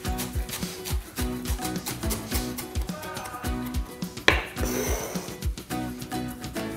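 A knife chops chives on a cutting board in a kitchen, a close, steady run of quick crisp taps at an even rhythm with a brief louder clatter midway.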